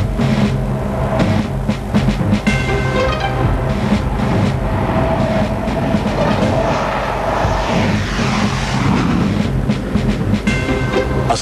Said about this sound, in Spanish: La mañana del 4 de mayo despegan 2 Super Etendard hacia su histórica misión.